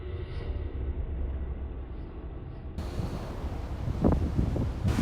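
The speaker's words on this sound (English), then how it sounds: "Strong winds and high waves transformed the coast of Spain as Storm Gloria passed by." Strong storm winds and high surf lash the Spanish coast during Storm Gloria, a steady roaring wind rumble that grows louder and rougher toward the end, with crashing wave bursts near the close.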